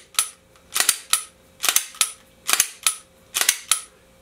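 A handgun slide racked and the trigger worked during practice gives repeated sharp metallic clacks and clicks, close and loud, in about six evenly spaced cycles with no talking.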